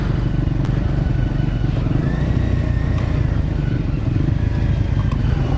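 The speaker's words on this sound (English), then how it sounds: "I sometimes forget how powerful this bike is" A powerful motorcycle roars steadily and loud, close up, as from the rider's position, with rumbling engine noise and wind over the whole stretch. No one speaks.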